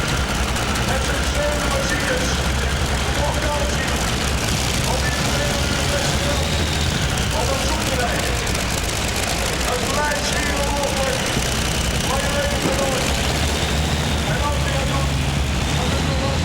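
A tractor-pulling machine with three methanol-injected V12 Allison aero engines roars at an indoor competition, a loud, sustained, dense engine blare filling the hall without letup, with a commentator talking over it.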